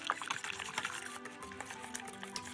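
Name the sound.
whisking gelatin mixture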